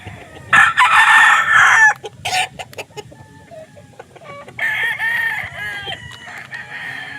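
Loud, close rooster crowing in two long calls separated by a pause at a gamefowl farm, with scattered clucks and clicking noises between them.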